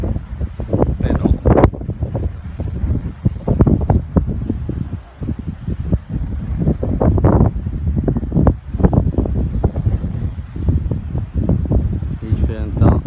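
Strong wind buffets a sailboat cruising off Sardinia, a constant loud roar of gusts and microphone rumble that runs throughout, with someone talking over it.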